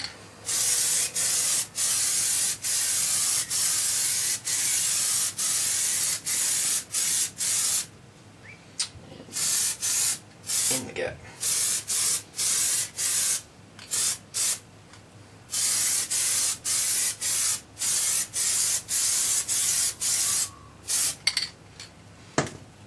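An aerosol can sprays Plasti Dip onto Halo 4 Master Chief armour in a long series of hissing bursts, some brief and some held for a second or more, separated by short pauses, close and steady.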